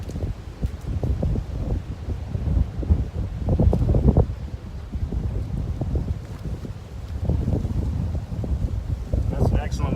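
Strong gusty wind at an open beehive buffets the microphone with low rumbling bursts that rise and fall, rustling continuously throughout.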